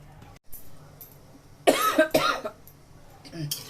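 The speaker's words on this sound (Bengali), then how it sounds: "খুব গা ঘামছে তো কাশি হয়ে যাচ্ছে" A person coughs in a short cluster of two or three harsh bursts near the middle while cooking a chicken roast with milk and yogurt, with a quieter throat sound near the end and soft kitchen background.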